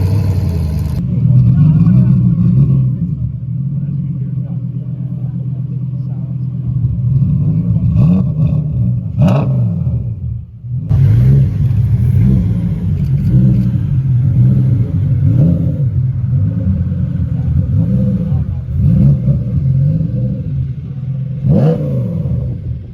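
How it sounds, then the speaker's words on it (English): A Hennessy Venom F5 supercar, one of a pair in baby blue with stripes, revs its engine close by in repeated loud surging bursts, with brief lulls between blips and voices faintly in the background. "Was a pair of Hennessy Venom F5s."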